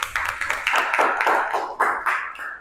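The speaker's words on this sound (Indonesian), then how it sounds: "Tepuk tangan untuk kelompok 1." A student group in a classroom receives applause from classmates, with sparse, uneven claps tapping out over a couple of seconds, fairly close and moderately loud, no voices over them.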